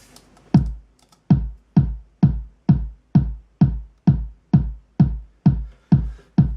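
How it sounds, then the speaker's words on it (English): A steady Logic Pro kick drum pulsing at an even tempo, about a dozen tight low thumps in a row, close and clear after a brief quiet start. "kick drum, which sounds like this"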